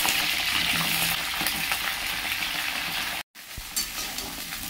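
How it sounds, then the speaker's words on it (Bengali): Cauliflower florets frying in plenty of hot white oil, a loud continuous sizzle and crackle close by, briefly cut off before the spitting resumes slightly quieter. "তেল গরম হয়ে গেলে কেটে ধুয়ে পরিষ্কার করে রাখা ফুলকপিগুলো ভেজে নেব।"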